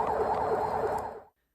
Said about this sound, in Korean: 소방 사이렌이 울립니다